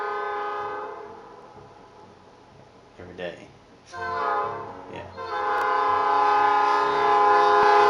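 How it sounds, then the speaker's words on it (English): A passing train sounds its horn in long, loud, sustained blasts that swell and hold near the listener, with brief voices talking beneath the rumble. "That's the train."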